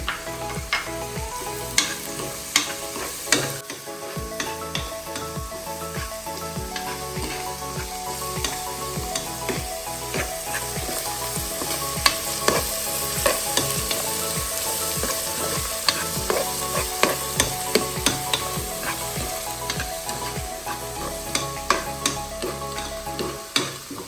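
Salted onions sauté in a pan for a chicken curry, a constant sizzle running throughout while a spoon scrapes and taps the pan in frequent, irregular strokes, close up with no voices.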